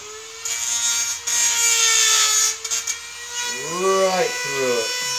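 A power tool cuts through wood in a home workshop, its loud, steady motor whine running for several seconds, breaking off briefly and then resuming, with someone speaking near the end.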